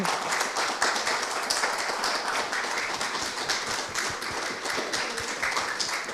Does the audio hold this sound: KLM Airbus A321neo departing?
no